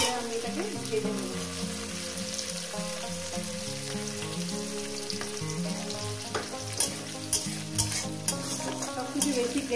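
A large onion fries in a pan for a jackfruit curry made with mutton fat and mince, giving a continuous close sizzle broken by repeated stirring scrapes, with music playing underneath throughout.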